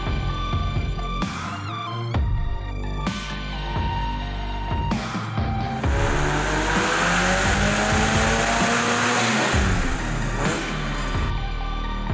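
A loud supercharged twin-cam engine on a dyno revs and roars in repeated bursts with gear changes, building to a sustained high-pitched scream before dropping off, with no talking.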